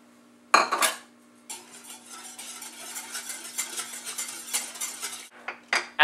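Olive oil and salt being mixed into pizza dough in a bowl, with a utensil scraping and clinking against the bowl, a short sharp burst, a pause, then several seconds of steady stirring and a few final knocks.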